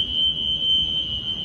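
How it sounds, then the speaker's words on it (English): A fire alarm sounds as one continuous shrill, piercing tone, steady and loud throughout, over faint room noise. "It's like a fire alarm going off."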